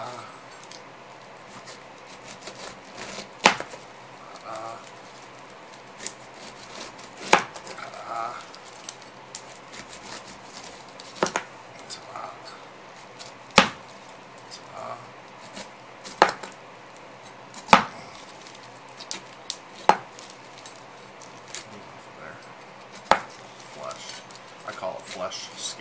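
A knife chops through a pineapple on a cutting board, giving sharp, irregular cuts and thuds spaced a second or two apart, with quiet handling sounds between them.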